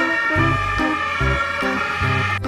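Toy ambulance siren from a red rescue ambulance toy, a repeating two-tone electronic wail cycling steadily up and down, loud and close with no voices.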